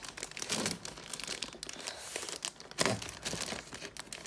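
A delivery package is torn open and crumpled during an unboxing, giving crinkly plastic rustling in uneven bursts with a couple of sharper tearing rips, close and moderately loud, with no talking.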